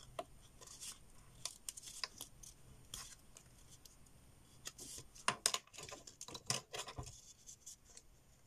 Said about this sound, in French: avec mon petit ciseau, je viens fignoler, on va dire, les petites découpes